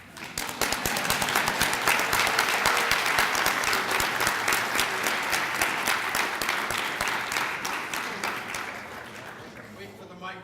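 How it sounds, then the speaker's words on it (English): Audience at the UNA-USA Annual Meeting breaks into sustained applause, dense clapping that starts abruptly, holds steady for several seconds, then tapers off toward the end. "look at that, I cut off the applause"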